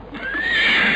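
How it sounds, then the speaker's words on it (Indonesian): A horse whinnies loudly and close by, a single rising neigh held through the second as a rider approaches. "nampak seorang penunggang kuda menghampirinya"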